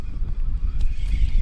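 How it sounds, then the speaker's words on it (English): Gusty wind blowing across open water on a wade-fishing trip, buffeting the microphone as a low, uneven rumble that swells and dips over a brief moment, with no talking. "The wind has kind of picked up on us"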